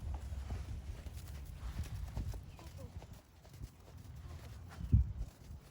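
Soft hoofbeats of a young horse walking on a soft arena surface during a riding lesson, steady and close, with a louder thud near the end and some background noise.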